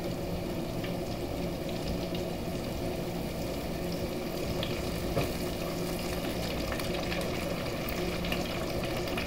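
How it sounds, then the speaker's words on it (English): Pieces of cod deep frying a couple at a time in a basket of hot oil, a steady dense sizzle and crackle that holds without pause throughout, close and fairly loud, with no talking. "And we're gonna let it deep fry."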